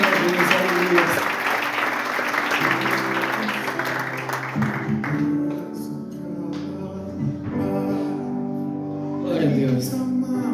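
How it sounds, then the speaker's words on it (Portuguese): Church congregation in a Brazilian service clapping for about five seconds, then the applause fades as a voice speaks over tonal music that continues to the end. "Vamos aplaudir o Senhor pela vida dos pais."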